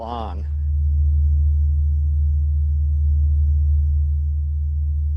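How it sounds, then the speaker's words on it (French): A voice speaks briefly, then a low, steady droning hum of the Sun's sonified vibrations sets in and holds, deep and unchanging like a sustained rumbling tone. "Voici le chant du Soleil."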